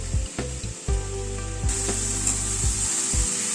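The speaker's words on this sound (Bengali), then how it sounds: "টমেটোটাকে দিয়ে আবার একটুখানি নাড়াচাড়া করে নিচ্ছি" Chopped tomato is stirred into frying mixed vegetables, with a spoon scraping and knocking against the pan in several distinct strokes over a continuous low sizzle, close and with no voices.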